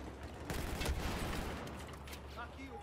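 ACE 23 rifle fire in Battlefield 4 sounds as a quiet, rapid burst of shots with a rumbling low tail, fairly faint and distant-feeling.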